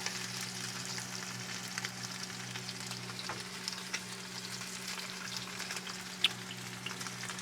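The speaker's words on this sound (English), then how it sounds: "Just going to lay it down the grease. I am going to throw a butter on top." Butter melting into hot grease in a camp pan outdoors, a soft even crackling sizzle that runs steadily throughout, with a faint low hum beneath and no speech.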